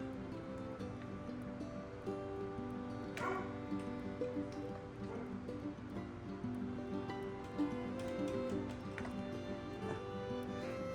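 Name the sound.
dog barking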